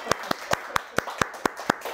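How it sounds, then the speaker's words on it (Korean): Eight sharp hand claps in a steady, even rhythm, close and fairly loud, with no voices over them. "박수! 하자!"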